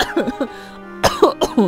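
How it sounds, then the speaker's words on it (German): A person gives a few sharp, close coughs in quick succession, with a short sustained tone in the gap between them. "Erstmal ein Hustflash hier."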